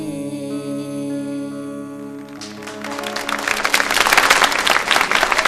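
A sustained sung note from a duo's song on a home-style TV variety show fades, and a studio audience breaks into applause that swells into dense, loud clapping for the rest of the stretch.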